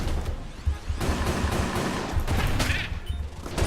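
Rapid bursts of gunfire in the dungeon shooter Enter the Gungeon, dense crackling volleys and impacts layered over one another, loud and continuous with a few sharper shots standing out.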